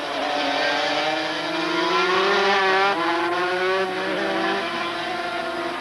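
500cc racing motorcycles at the 1992 Brazilian Grand Prix scream past in a loud, steady high-pitched engine wail, with pitch sweeps as the bikes shift and trade places.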